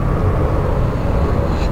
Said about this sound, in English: a lot of planes going over my head right now.